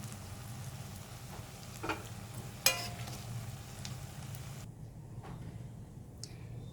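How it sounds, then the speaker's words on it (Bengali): Pumpkin pakoras frying together in hot oil, a quiet steady sizzle with a few sharp clinks and scrapes of a utensil, faint and unaccompanied by talk. "এরকমভাবে সবগুলোকে আমি একসঙ্গে ভেজে নিচ্ছি"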